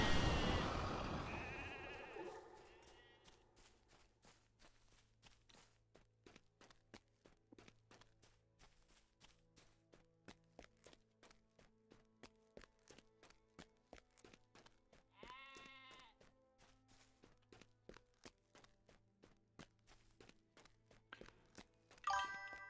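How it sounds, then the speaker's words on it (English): Sheep bleat in Lord of the Rings Online amid a long run of steady, rhythmic footsteps, with a few brief chimes and thunks; the game sounds stay quiet and even throughout. "I'll bring the sheep back first."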